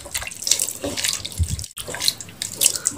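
Rice being washed by hand under a running tap, a steady splashing stream of water with sloshing grains, close and continuous for a few seconds with a brief break near the middle.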